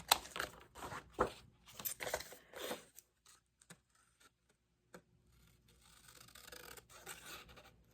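Scissors cutting paper for a Christmas junk journal, a series of close crisp snips and rustles in quick bursts, then quieter handling sounds and soft crinkling.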